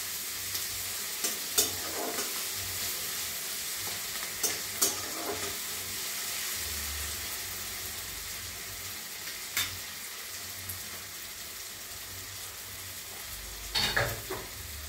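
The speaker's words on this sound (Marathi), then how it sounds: "आता हे चांगलं परतून घ्यायचं।" Coriander and seasoning are sautéed in a pan for a puffed-rice dish, a steady close sizzle broken by scattered sharp clicks of a spoon stirring against the metal.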